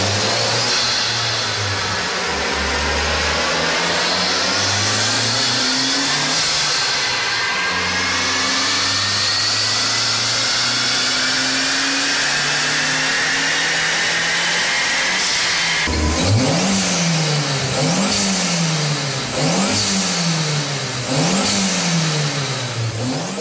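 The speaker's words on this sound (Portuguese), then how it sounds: "esse aqui é mais um carro que foi preparado pela NASCAR aqui, que foi colocado o turbo" A modified car engine fitted with a turbo and prepared by a tuning shop revs loudly and close, rising and falling in pitch, then settles into repeated sharp throttle blips in a rhythmic pattern.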